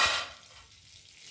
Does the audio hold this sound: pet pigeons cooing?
no